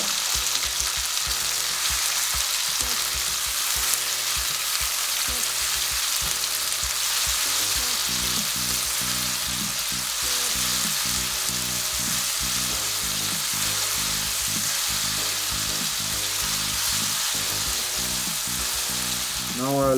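A coarse paste of ginger, garlic and green chili fries in a pan, giving a steady, loud broadband sizzle throughout, with low clatters of stirring scattered over it and no talk.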